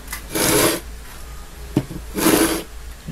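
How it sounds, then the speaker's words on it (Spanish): Two long rasping strokes of coarse sandpaper or a fine file across a cut metal lamp tube, loud and close, with a short sharp tap between them and no talk. "Ya tenemos el tubular cortado y procedemos al lijado."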